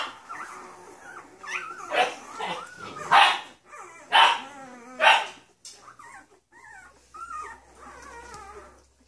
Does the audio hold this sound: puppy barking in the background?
yes